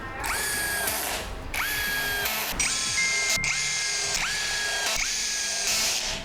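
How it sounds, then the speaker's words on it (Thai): An Ingco 20V impact drill in screw-driving mode, set to torque 6 and speed 2, drives screws in about five loud, close bursts of whining motor, each winding down with a clicking ratchet. "ผมจะมาลองขันสกูกัน ผมอยู่ในโหมดขันสกูนะ"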